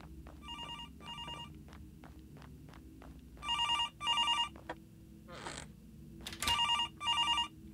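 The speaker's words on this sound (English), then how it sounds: "Shit, the phone ring." Telephone ringing in the Graveyard Shift video game, repeated bursts of an electronic trilling ring in pairs, clear and close, with faint background tones and a few clicks between rings.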